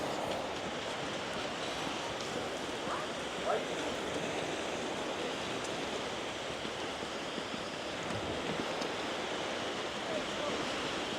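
Waves washing onto a beach in Salou on a morning stroll, a steady broadband wash of surf with a faint wind-like hiss throughout.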